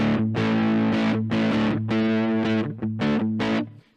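Electric guitar through a Monoprice Mini distortion pedal, several strummed distorted chords in a rough rhythm, close and loud, with a compressed, mid-rich tone that rings briefly at the end.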